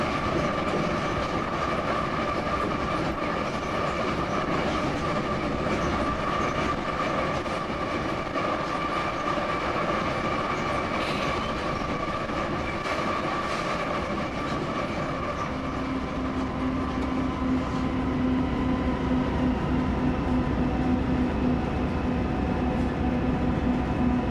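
Freight train rolling steadily, heard from inside the locomotive cab, a continuous loud rumble with engine drone and faint rhythmic wheel clatter, plus a tonal hum appearing later, no talk.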